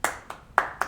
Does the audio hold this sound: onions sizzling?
no